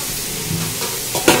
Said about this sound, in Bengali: এদিকে চাটনির জন্য হচ্ছে ফুলকপি ভাজা, ভাজাভুজি এখন চলছে